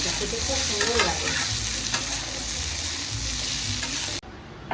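Black cumin seeds hit hot oil for a fish curry tempering, giving a loud, close, continuous crackling sizzle that cuts off abruptly near the end; no talking.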